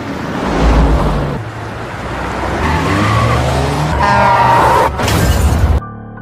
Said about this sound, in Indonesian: mobil yang membawa Grace pun mengalami kecelakaan